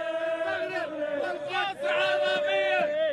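Moroccan football fans crowd the streets of Souq Waqif on the eve of the World Cup, their loud, close chanting and shouting rising and falling in unison with hardly a break.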